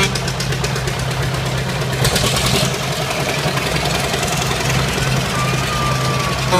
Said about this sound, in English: Antique John Deere tractor.